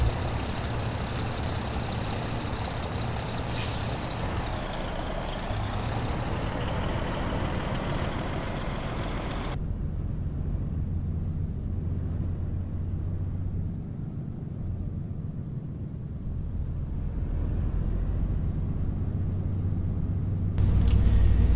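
A Peterbilt 389 in American Truck Simulator hauls a hooked trailer on a six-speed Allison automatic, its engine a steady deep rumble that drones on throughout, with a brief hiss early and a shift in tone partway.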